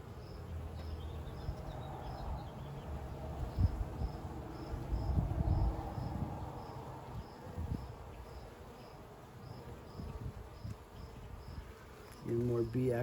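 Honeybees buzz steadily around an open hive during an inspection for a released queen, a dense continuous hum close by with a few louder swells and a thump near the end.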